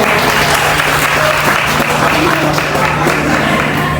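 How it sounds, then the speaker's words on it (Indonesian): Dense, loud audience applause at a university film discussion event, steady clapping from a full room lasting throughout with a faint voice underneath. "ya, tepuk tangan dong."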